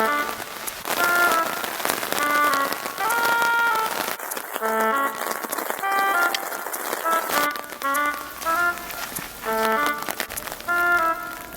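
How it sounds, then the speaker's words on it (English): Heavy rain pours steadily on a dim outdoor path near an abandoned town, a dense hiss of drops that runs throughout beneath bright, repeating melodic tones, with no one speaking. "now it's raining like crazy."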